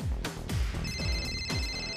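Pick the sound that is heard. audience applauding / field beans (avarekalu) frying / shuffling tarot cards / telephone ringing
telephone ringing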